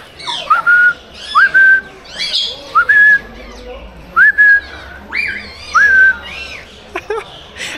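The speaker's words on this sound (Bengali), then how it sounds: "কত সুন্দর করে তারা ডাকছে, শীষ দিচ্ছে" Parrots and cockatoos at Gazipur Safari Park whistle and call close by in a string of rising whistles and chirps, repeated about six times with short pauses between.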